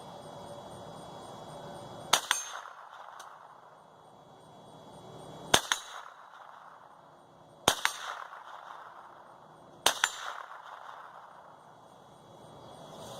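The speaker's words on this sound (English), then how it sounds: "We'll just take a couple of shots right here." Four sharp, separate rifle shots from a Henry AR7 survival rifle, evenly spaced about two seconds apart outdoors, each a loud crack with a short trailing echo and nobody speaking.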